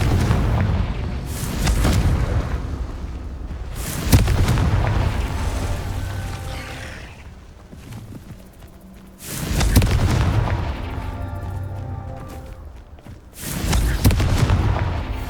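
Confringo blasting spells exploding in Hogwarts Legacy, several heavy booming blasts with rumbling tails spaced a few seconds apart, loud and close, with no talking.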